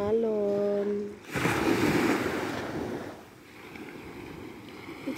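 Rough sea waves surging and washing in deep water, a broad loud rush after a brief tonal sound at the start, with wind noise over the microphone and no speech.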